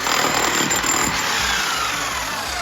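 A power drill breaks rock in a pitch-dark underground tunnel, giving a loud, continuous grinding roar close by that holds steady for a couple of seconds.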